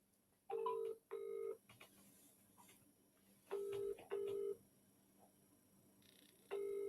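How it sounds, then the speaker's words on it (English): A telephone keypad sounds five separate dialing tones in uneven groups, close and clear against a quiet room hum. "I'm going to phone him up now."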